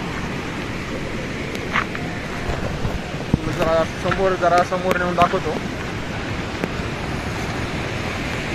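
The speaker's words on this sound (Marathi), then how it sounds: "एवढं खूपच पाऊस पडतो म्हणून जरा जास्तच पाणीचा वेग झालेला आहे." Water in a rain-swollen stream at Lonavala rushes in a steady, loud broadband roar, while someone talks briefly over it in the middle.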